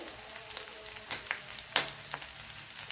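Curry leaves dropped into hot oil in a pan give a faint, crackling sizzle with scattered sharp pops over a few seconds.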